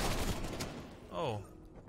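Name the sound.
gunfire from Call of Duty Cold War video game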